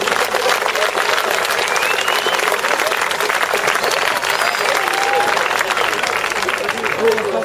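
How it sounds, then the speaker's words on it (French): A crowd applauds steadily after a presentation of France's 2011 agility team, with dense, even clapping that stays loud for the whole stretch and some voices mixed in. "on peut encore une fois tous les applaudir"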